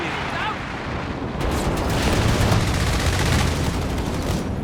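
Allied aircraft strafe the ground in a Company of Heroes 3 battle, with a dense, loud roar of rapid gunfire rising after a quieter start and rolling on continuously.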